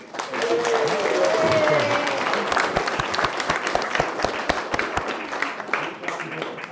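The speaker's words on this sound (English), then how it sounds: "That might be the only round of applause I get tonight" Wedding guests applaud the groom's father as he rises to speak, a full round of clapping that starts thick and loud, then thins into scattered separate claps and dies away, with murmuring voices underneath.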